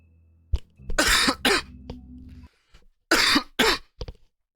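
A man with a sore, phlegmy throat coughs in two close bursts, each a pair of harsh rasping hacks with throaty grunts between them, loud and near with nothing else around.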